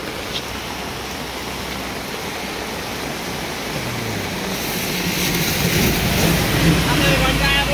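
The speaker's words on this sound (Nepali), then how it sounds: "हेर त बाढी उर्लेको" A flooded river in full spate, a dense broadband roar of rushing water that swells louder toward the end, with a person speaking faintly over it.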